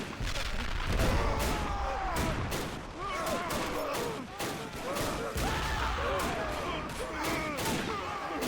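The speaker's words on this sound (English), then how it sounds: "Deadly impacts by the mortar, who is right now firing dangerously close." Mortar impacts and gunfire in a war video game battle, with dense rolling booms and shots continuing steadily and loud throughout, layered over a constant battle din.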